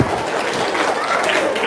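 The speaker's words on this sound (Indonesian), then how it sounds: "Tepuk tangan dong." Steady applause from a gathered crowd, a dense wash of clapping that holds at an even level for under two seconds without breaks.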